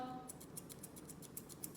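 Rapid, rhythmic snipping of scissors trimming a Nova Scotia Duck Tolling Retriever's foot hair, about a dozen quick close cuts in a steady run, with no talking.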